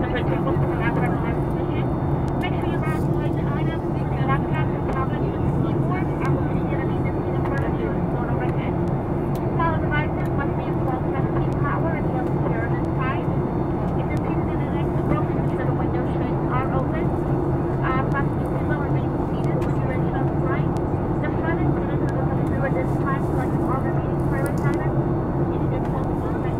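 Steady, loud engine and air roar inside the main cabin of an Alaska Airlines Boeing 737-900ER before landing at Phoenix, a constant drone heard throughout with a cabin announcement spoken over it.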